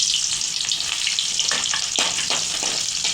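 Onions fry in hot oil for egg rice, a dense continuous sizzle with stirring scrapes popping through, close and loud, no voices.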